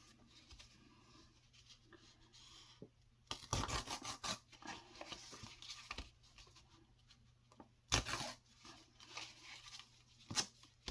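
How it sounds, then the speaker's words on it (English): Squares of watercolor paper are torn out along a tear ruler: quiet rustling, then two distinct bursts of ripping paper, close and crisp, with smaller scratchy handling sounds between and after. "I'll get my tear ruler out here and tear one out for you."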